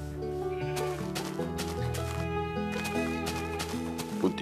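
Minecraft sheep bleating over and over, several wavering cries layered together, loud and continuous with no pauses.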